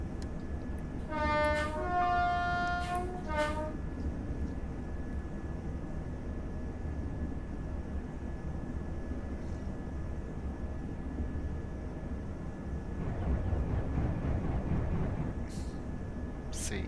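Trains passing at speed in the Train Sim World 5 video game on the Euston to Milton Keynes line, with a steady rushing roar throughout, a brief horn near the start and a heavier rumble later on.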